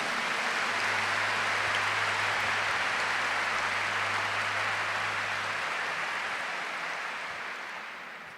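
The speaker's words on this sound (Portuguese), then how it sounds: "Give the Lord a big clap for that." Sustained church audience applause, a dense wash of many hands clapping steadily for several seconds before gradually fading out.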